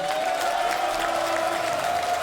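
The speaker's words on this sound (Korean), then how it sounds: "여러분 다시 한번 큰 박수 부탁드립니다" Crowd applause at a Korean political party gathering, a steady dense wash of clapping with a sustained tone running underneath throughout.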